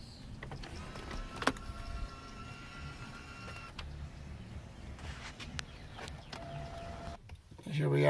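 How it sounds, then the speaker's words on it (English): An electric motor whirs steadily as the power rear-window roller blind moves in a 2006 Mercedes-Benz CL55 AMG coupe, a faint continuous hum inside the cabin with a few clicks and background noise. "power roller blind for the rear window"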